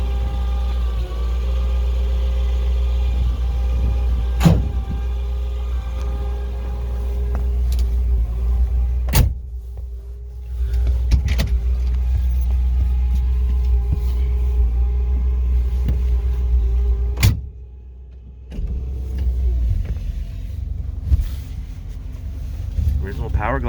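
A fully restored 1955 Chevrolet Bel Air hardtop with an original cast-iron Powerglide automatic drives along with a steady low engine drone and road rumble, broken by a few sharp clicks and a brief dip in engine sound.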